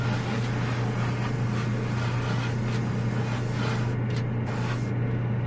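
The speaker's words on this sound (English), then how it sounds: "shoot a little mist coat of this color on the back." A steady, close spray hiss of an airbrush misting a light coat of paint onto the back of a model, holding continuously with only brief breaks near the end.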